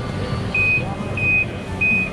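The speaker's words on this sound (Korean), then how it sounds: "지금 보시면은 삐삐삐삐 거리면서 그러고 있죠." A Tennant T7 autonomous cleaning robot gives three short, high electronic beeps at regular intervals as a person comes near, over a low background hum and faint voices.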